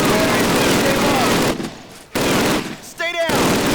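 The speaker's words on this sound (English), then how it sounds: "Sergeant, fire up those machine guns!" Machine guns rattle in rapid, loud bursts on a Call of Duty training course, with two short breaks in the fire and a brief shout in between.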